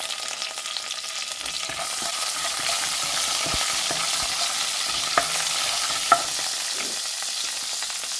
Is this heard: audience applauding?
no